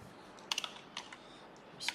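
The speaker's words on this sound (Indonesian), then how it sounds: "tekan enter ya" Several sharp key clicks from typing on a computer keyboard, with a final firmer press of the enter key, heard close and sparse over a quiet room background with no talking.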